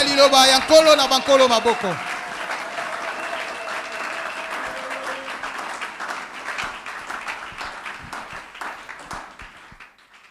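A church congregation breaks into sustained applause during a worship service. A loud voice rings out at the start, then dense crowd clapping carries on steadily and slowly fades.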